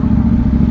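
KTM Duke 790 motorcycle with an Akrapovic exhaust, its engine droning loud and close in a steady, sustained growl while riding, with no voices.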